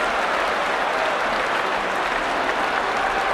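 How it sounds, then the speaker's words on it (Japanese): Sumo arena crowd at the Kyushu Basho bursts into dense, sustained applause after a makuuchi bout, a loud, even wash of clapping from many hands filling the hall throughout. "ただその健闘をたたいて大きな拍手が起こっています"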